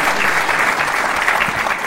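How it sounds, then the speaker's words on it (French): Loud, dense applause from an audience at an association's presentation event in Paris fills the whole stretch, steady and sustained without any break. "Je vous demande tous d'applaudir très fort"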